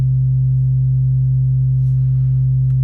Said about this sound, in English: So we have a generated sine wave at a frequency of 130 Hertz.